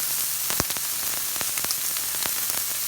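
A pound of Jimmy Dean breakfast sausage browning in a pan, a loud, close, steady sizzle with sharp crackling spits and pops scattered throughout, no voices.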